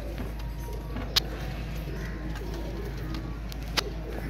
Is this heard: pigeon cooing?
yes